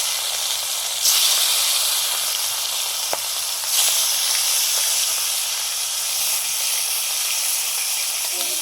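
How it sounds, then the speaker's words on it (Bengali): Fish frying in hot mustard oil, a steady loud sizzle and hiss throughout, with a couple of sharper spits and pops as pieces hit the pan. "তেল গরম হয়ে গেছে, মাছগুলো দিয়ে দিচ্ছি।"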